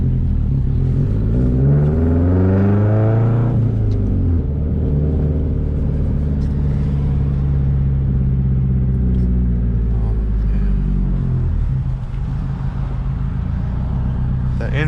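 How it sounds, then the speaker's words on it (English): A 2004 Subaru WRX STI engine rumbles from inside the car while driving, a low steady drone with rising revs that pitch up and settle, loud and continuous. "See if we can hear that rumble."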